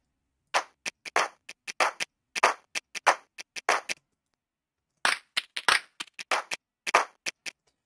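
Recreated clap loop for a pop track, built in Ableton: sharp, dry percussive hits in quick syncopated groups, repeating after a brief pause, with no voices.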